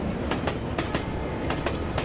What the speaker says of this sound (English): Actually, you are traveling in a ghostly train.